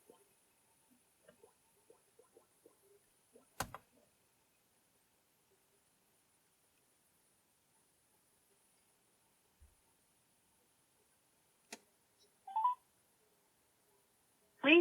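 Quiet phone keypad tones from dialing a test call to voicemail through a CoolStream Car Chat+ BTR103: a string of short, faint beeps in an uneven rhythm, then a few sharper clicks and tones spaced apart in near silence.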